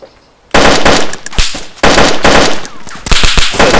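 Gunfire in the video game DayZ: loud, near bursts of rapid automatic shots in several volleys broken by brief pauses, with no talking.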